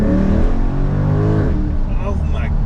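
A C8 Corvette's engine revs loud and close, a deep roaring drone that rises and falls with the throttle, with a faint voice underneath.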